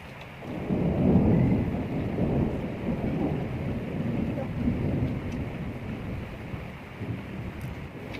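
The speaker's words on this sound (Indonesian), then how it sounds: "Hujan banget." Heavy rain pours steadily with a low rolling rumble of thunder, loud and close at first and then easing into a constant wash of noise.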